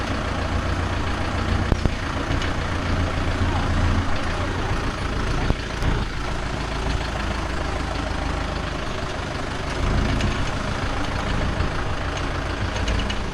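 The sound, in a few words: Mahindra tractor engine running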